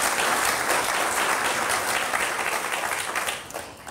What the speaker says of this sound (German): Dafür haben Sie sich einen Applaus verdient.